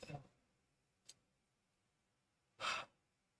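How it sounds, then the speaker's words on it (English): A man yawns during an early-morning smoking session: quiet, close breathy bursts, with a short intake at the start, a faint catch in the middle and a longer airy exhale near the end. "that was a hell of a yawn"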